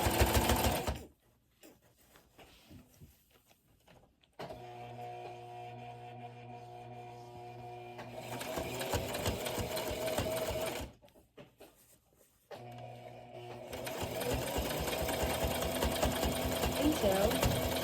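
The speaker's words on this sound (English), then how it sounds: "you're going to want to carefully sew this down" A home sewing machine stitches a fidget blanket in two longer runs separated by short pauses, its motor whirring steadily and close, with a faint voice in places.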